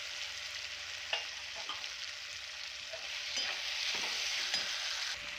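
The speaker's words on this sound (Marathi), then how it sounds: "बुर्जी ॲड करूया आणि छान मिक्स करून घेऊया." Egg bhurji is stirred into masala frying in oil, giving a steady, close sizzle with scraping spoon strokes and occasional knocks against the pan, no voices.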